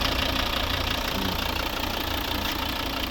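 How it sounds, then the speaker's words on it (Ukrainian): A 2011 Volvo V60 D4 with a five-cylinder two-litre diesel, automatic, idling steadily up close, a continuous low, even engine drone with no speech over it. "П'ятициліндровий, дизельний, двохлітровий двигун, мільйонник, меганадійний, класний, ще й прокачаний. Ось робота двигуна."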